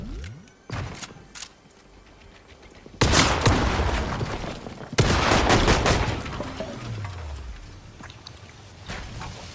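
Gunfire from a Profire in the Fortnite video game, heard as a few sharp early shots followed by two loud bursts of heavy blasting and rumbling, close and dense, fading to quieter game sounds at the end.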